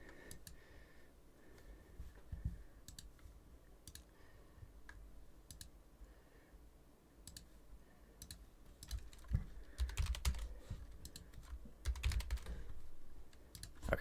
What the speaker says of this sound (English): you guys are gonna hear a lot of mouse clicking